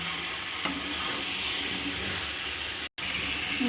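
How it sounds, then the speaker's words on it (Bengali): Boiled young jackfruit and potato fry with spices in a pan, a steady moderate sizzle with one sharp stirring knock and a brief dropout, no talking. "এঁচোড় আর আলুটা একটু কষা কষা করে নেবো"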